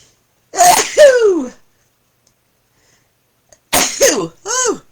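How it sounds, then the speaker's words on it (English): A loud, close sneeze, then a pause, then a second sneeze followed by a short throat-clearing sound, with silence between. "Just a second, I've got to sneeze."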